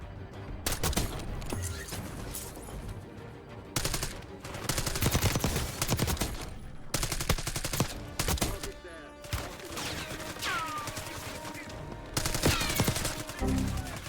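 Submachine guns fire in Call of Duty: Warzone. Rapid automatic bursts repeat in loud, close volleys separated by short pauses across the whole stretch.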